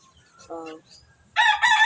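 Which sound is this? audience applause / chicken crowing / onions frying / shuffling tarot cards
chicken crowing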